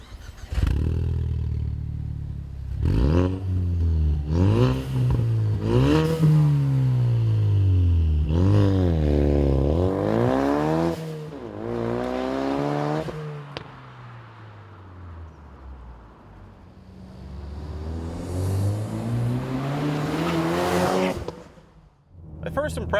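A Ford Mustang EcoBoost with an MBRP Street cat-back exhaust driving past, repeated rising revs through the gears and engine swells, loud and close, fading toward the end, with some talking in between.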